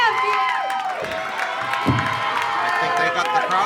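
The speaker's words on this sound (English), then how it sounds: "this is Crowd erupting right now" Crowd cheering and shouting at a Chaotic Wrestling heavyweight championship event, a loud, continuous roar of voices with whoops rising over it.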